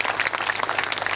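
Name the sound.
audience applause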